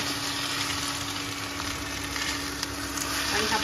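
Thai noodles stir-fried in a pan over a high flame: a steady, loud, unbroken sizzle and hiss with faint scraping of the mix.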